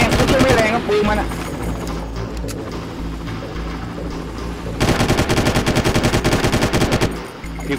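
Far Cry video game gunfire: loud, steady, rapid automatic bursts over a constant low hum, easing off for a stretch in the middle and then returning as a fast, even string of shots.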